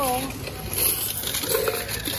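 Coins dropping and clinking into a jar of saved change, a few bright metallic jingles and rattles at close range over a steady background hiss, with no clear talking.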